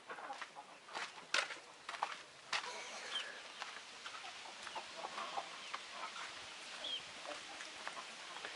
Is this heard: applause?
no